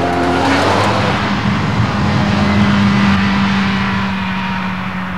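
Ferrari 348 TB sports car driving at steady speed, its engine droning loud and close with a continuous low hum and faint tyre noise, no voices.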